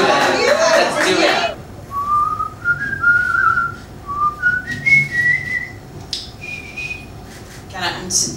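Someone whistles a short melodic run of clear, sliding notes in a playful whistle-off, close and fairly loud, after a burst of talk and laughter, with brief chatter returning at the end.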